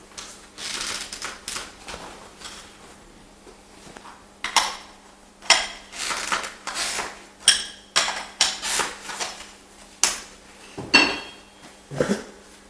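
Sharp metallic clacks repeat at a steady rhythm, a G-Spot spotter dent puller slide hammer striking against metal with a faint electrical hum underneath.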